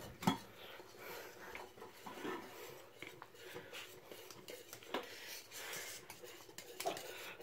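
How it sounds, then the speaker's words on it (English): A spoon stirs homemade parsley sauce in a pot, making faint, scattered clinks and scrapes against the metal with soft knocks in between, fairly quiet and intermittent. "And give it another stir"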